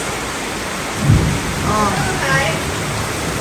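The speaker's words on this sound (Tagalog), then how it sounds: "Grabe, ang lakas ng ulan." Heavy rain roars steadily with a low thunder rumble, while a person briefly exclaims and speaks over the downpour.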